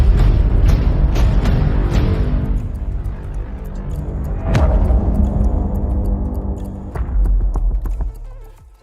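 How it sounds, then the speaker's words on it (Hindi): A song plays at full volume through the small speaker of a KW13 Max smartwatch. It sounds thin and dense, with music fading in level partway through and dropping off near the end. "आवाज़ जो है वो वॉच में से आ रही है"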